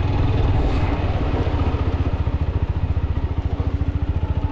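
An Apache RTR 160 4V motorcycle rides on a mountain road toward a Himalayan temple, its single-cylinder engine thumping in a fast, even pulse close by with wind noise.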